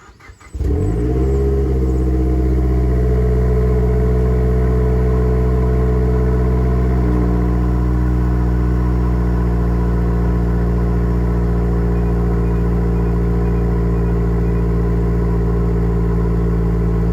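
A Mazdaspeed 3 engine cold-starts with its exhaust cutout valves closed, cranking briefly and then settling into a loud, steady, close idle that holds without pause.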